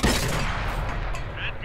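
A tank cannon shot from a Chi-Nu Kai in World of Tanks on PS4: a deep, booming report at the very start that fades into a low rumbling tail, with faint battle noise behind.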